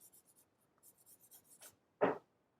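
The side of a pencil shades across paper in a run of quiet, rhythmic scratchy strokes, then one louder, rougher rub near the end. The strokes are close and there is no talk.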